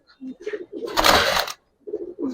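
Pigeons at a Bangladeshi seller's loft of Giribaz and colored pigeons coo in short low repeated bursts, with a louder noisy rustle in the middle and further coos after a brief gap.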